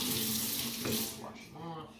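Tap water runs steadily into a sink as celery stalks are washed beneath it, the stream breaking and gurgling near the end.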